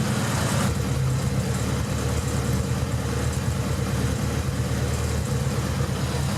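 An engine idles steadily with the choke on, a constant low rumble heard up close throughout.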